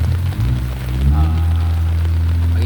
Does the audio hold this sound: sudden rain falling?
yes